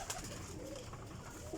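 Rampuri male pigeons coo in low, soft, throaty repeated calls close by, with a steady murmur of background noise and no talk.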